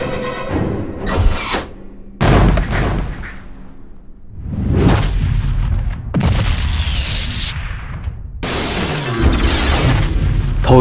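Animated cartoon cannon fire: several loud booms with whooshing blasts and bursts, spread across the span between sharp silences, close and forceful, with no talking.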